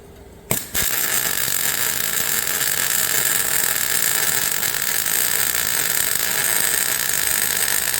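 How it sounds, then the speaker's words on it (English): MIG welding of 3mm mild steel plate with solid wire and shielding gas: a sharp strike, then a steady, loud crackling buzz of the arc that holds evenly with no break and no voices. "This is an example of MIG welding. We're using a solid wire with a shielding gas, and we're welding 3mm mild steel plate."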